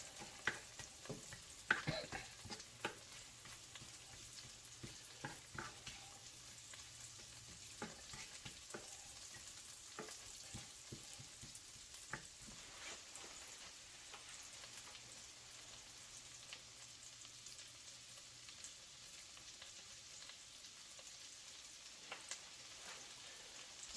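Onions frying in butter in a pan for a crappie fish recipe, giving a steady soft sizzle and crackle with scattered pops, fairly faint and close, with no talk over it.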